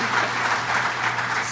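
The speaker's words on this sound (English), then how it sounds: "Can we please give them a round of applause" An audience claps steadily at an anniversary event speech, a dense, continuous round of applause heard up close without talk.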